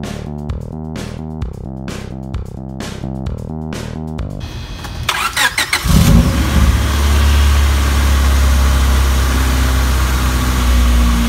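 A Honda Civic EK engine, fitted with a swapped Y8 intake, cranks with rhythmic starter pulses, then catches and settles into a loud, steady idle that runs noticeably high, close to the microphone.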